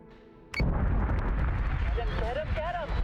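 Artillery guns fire from a Revenant in the space strategy game Battlestar Galactica: Deadlock. A sudden loud boom is followed by sustained rumbling blasts and faint tonal game effects.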